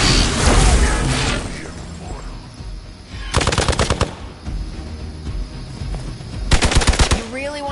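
Two sharp bursts of rapid automatic gunfire in the video game Middle-class Sin, loud and close, separated by a few seconds of quieter ambience, with voices and game effects between them.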